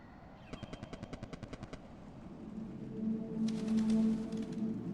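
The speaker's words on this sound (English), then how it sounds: "I just want to test out one firecracker" Firecracker going off in the video game Animal Well, a quick burst of about a dozen sharp crackling pops in even rhythm, then quiet, then a soft cooing, bird-like tone with a few more faint crackles near the end.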